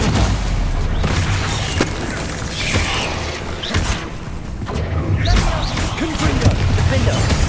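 Stupefy spell cast during a spider fight in Hogwarts Legacy, a dense burst of booming, thudding magical impacts and mechanical clatter layered over constant game noise and spoken spell incantations.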